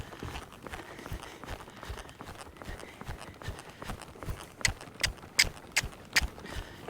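A two-year-old filly moving around in big and small circles, her hoofbeats soft and steady at first, then growing into louder, sharper footfalls near the end.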